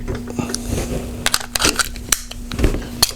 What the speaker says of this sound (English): You stick your 10 round magazine in.